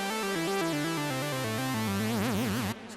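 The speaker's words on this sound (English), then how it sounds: "So it's a lot brighter and a lot more fizzier." Tyrell 64 synthesizer bass with the filter cutoff raised and resonance high, a bright, fizzy buzzing line of stepping notes that swells into a wobbling vibrato before cutting off, loud and alone.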